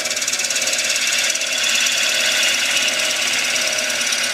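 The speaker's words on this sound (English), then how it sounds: "I'm using a 1/4 inch gouge." Wood being cut with a 1/4 inch gouge on a lathe, a steady continuous hiss and whir of light shavings coming off the spinning workpiece, close and even throughout with no talking.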